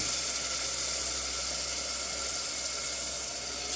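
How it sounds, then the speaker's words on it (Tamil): Water poured into a cooker during home cooking, a steady continuous rushing hiss with a constant low hum beneath it, even and unbroken throughout. "கொஞ்சமாக தண்ணி ஊற்றி"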